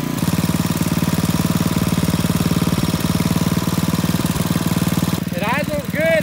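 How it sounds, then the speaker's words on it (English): A Briggs & Stratton 8HP engine on an old Troy-Bilt Horse tiller idles with a steady, close, rapid thumping putter, and near the end a voice speaks over it. "It idles good and it revs up good."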